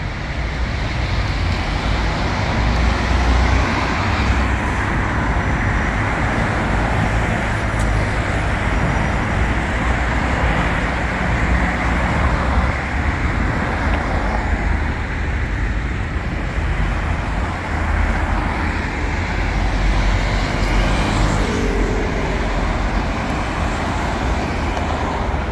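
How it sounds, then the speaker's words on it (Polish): Steady road traffic at sunrise, cars rolling past continuously in both directions with a constant broadband rush and wind, fairly loud and close, no talking. "Teraz jadą samochodziki z drugiej strony."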